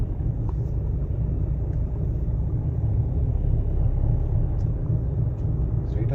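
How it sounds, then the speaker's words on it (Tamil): Heavy road traffic with many vehicles streaming past, a loud continuous engine rumble and tire roar close by without a break. "இவ்வளோ வண்டி போகுதே."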